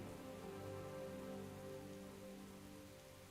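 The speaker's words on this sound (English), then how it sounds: "Oh, it's raining now." Rain falls steadily in an outdoor setting, a dense continuous hiss of drops on surfaces that holds even throughout and fades slightly toward the end, with no talk.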